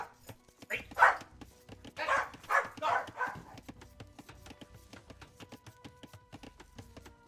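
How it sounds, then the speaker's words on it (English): A Corgi barks a few sharp, fairly close times in quick succession, then falls quiet while faint clicking carries on in the background. "Dog."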